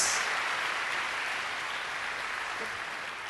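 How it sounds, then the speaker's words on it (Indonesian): A church congregation applauds together during a sermon, a steady broadband patter of clapping hands that fills the room and holds at an even level throughout without voices. "Tepuk tangan bagi Allah kita"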